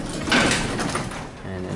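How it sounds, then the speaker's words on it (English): An elevator door slides open with a brief rumbling glide, close and fairly loud, partly under a person talking, in a lift of unknown brand in Brownsville, Texas. "The door's open."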